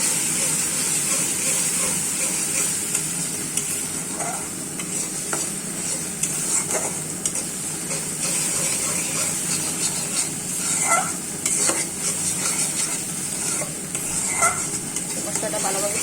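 Spice paste cooked with two spoons of chili powder for a fish curry with tomato and potato, stirred in a pan with a steady hissing sizzle and scattered scraping clicks of the spoon, close and unbroken.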